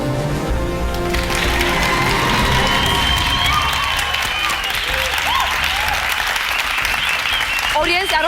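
A studio audience breaks into loud sustained clapping mixed with cheers and shouts, the dense applause swelling after a moment and carrying on throughout, close and lively.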